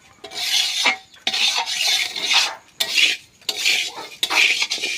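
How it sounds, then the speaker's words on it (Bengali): Rice frying in a pan for biryani, stirred with a metal utensil: repeated close scraping and rasping bursts with short pauses between strokes, steady and fairly loud, no voices. "এ দেখো চালটা কিন্তু ভাজা হয়ে যাচ্ছে"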